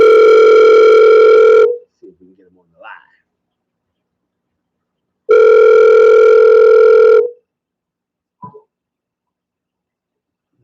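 A telephone tone sounds during a call-back on a morning radio show: two long, steady, loud tones, each about two seconds, separated by a pause. A brief faint voice murmurs in between.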